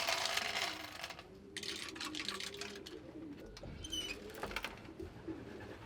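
Pigeons in a pigeon loft on a farm give soft, low cooing calls that carry on steadily through the clip, joined by scattered rustles and light clinks inside the building.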